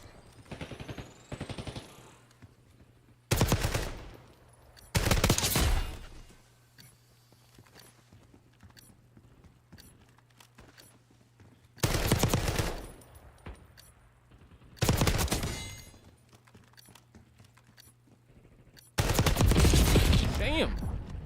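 Bursts of video game gunfire on a PS5 stream, several loud broadband volleys of rapid shots separated by quieter gaps with faint background noise and low hum.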